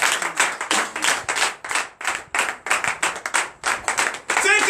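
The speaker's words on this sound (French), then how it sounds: "Donc je vous demande d'applaudir très fort." An audience at a church deliverance and prophecy night claps loudly in a steady rhythmic beat. The sharp, fairly close hand claps come in regular pulses throughout, with no talking.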